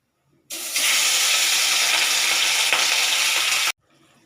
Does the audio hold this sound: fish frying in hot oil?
yes